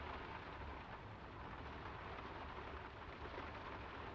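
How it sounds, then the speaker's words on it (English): Steady rainfall hisses evenly throughout a night village scene in the video game Draugen, a dense wash of noise with low rumbling underneath, with no voices. "It's getting late, and the rain's not abating."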